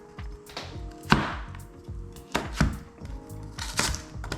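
A knife chops celery into fine strips on a cutting board, sounding as close, rapid clusters of sharp taps in an uneven rhythm.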